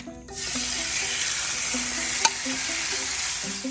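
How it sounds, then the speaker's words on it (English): Shrimp hitting hot olive oil in a pan, a steady broad sizzle that starts abruptly and holds loud and close, with a brief sharp clatter midway and faint utensil knocks throughout. "I got a bit of olive oil in there, and I'm going to add it in."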